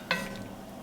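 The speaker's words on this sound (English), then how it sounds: "Give this a mix." Spoon stirring a beef broth mixture with a bay leaf in a pot, a single brief clink at the start followed by a faint sloshing swirl.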